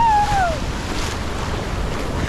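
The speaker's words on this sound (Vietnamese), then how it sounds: "Ôi sao bữa nay sóng to quá ta." Big waves surging on a beach at Ho Tram on a rough day, a steady loud roar of surf and wind filling the clip, with a brief whistle-like tone near the start.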